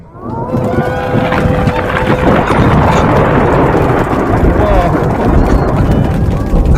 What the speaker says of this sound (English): Oh, that storm is really getting up out there.